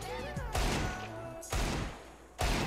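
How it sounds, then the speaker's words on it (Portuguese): Desert Eagle pistol shots in the video game CS:GO: three loud, sharp blasts spaced about a second apart, each followed by a short ringing decay, with faint game sounds between them. "Olha, os tiros de Eagle, velho."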